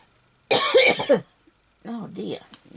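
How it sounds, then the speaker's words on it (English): A woman coughs several times at close range while crafting a scrap-paper journal, a loud burst of harsh coughs followed after a brief pause by a softer second fit. "Oh dear, now I've got a cough myself."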